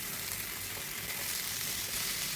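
Cabbage pieces frying in a spoonful of hot oil in a salted frying pan produce a loud, continuous sizzle that holds steady with no voices.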